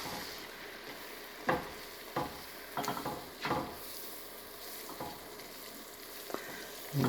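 Butter and flour sizzle softly in a soup pot while being stirred into a paste, with a faint steady hiss broken by occasional utensil scrapes and knocks against the pot.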